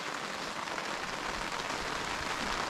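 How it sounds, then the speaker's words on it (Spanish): Steady rain pattering down at a campsite, a dense even hiss of drops on surfaces that fills the whole moment without pause, with no voices over it. "estamos esperando que pare la lluvia un ratito"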